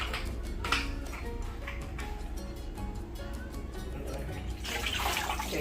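Bleach is poured into a bucket of mop water during household cleaning, making a faint, continuous liquid trickle with small splashes and a brief louder swirl near the end.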